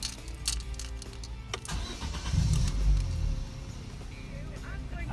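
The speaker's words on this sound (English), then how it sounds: "So when we start the car," A Vauxhall Opel Astra H with a faulty front ABS sensor starts up, a brief crank that catches and settles into a low idle, mid-distance, with talk and some clatter around it.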